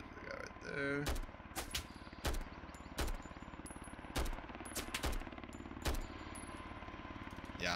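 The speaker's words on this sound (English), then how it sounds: "I'm getting shot at all over." Video game gunfire crackles in sharp bursts through a shooter battle, a handful of loud cracks spaced about a second apart, with a player's voice talking underneath.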